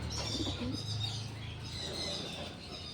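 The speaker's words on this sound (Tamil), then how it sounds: "இங்கேயும் நிறைய புறா வகைதாங்க" Pigeons coo softly in an outdoor bird park, low murmuring calls repeating in the distance at a faint level, with light chirps and ambient background around them and no talk.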